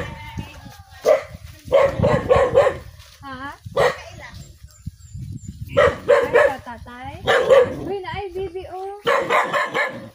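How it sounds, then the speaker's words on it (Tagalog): A dog barks repeatedly in short bursts near the location, loud and close, interleaved with excited talk from people nearby. "may aso."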